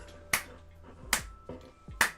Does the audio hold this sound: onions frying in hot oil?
no